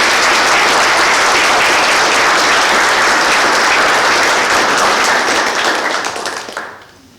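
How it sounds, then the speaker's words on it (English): Sustained, loud applause from a large indoor audience at an emergency services employee recognition ceremony, dense clapping lasting about six seconds before fading out. "let's give them one more round of applause"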